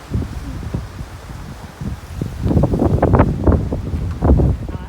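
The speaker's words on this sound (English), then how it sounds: "It's really windy today." Strong gusty wind buffets the microphone in heavy low rumbling bursts, growing louder and rougher in the second half, at the abandoned Zzyzx resort in the California desert.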